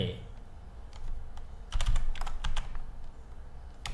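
Fingers tap a computer keyboard while code is written, giving close, quick irregular clicks in short bursts over a low background hum.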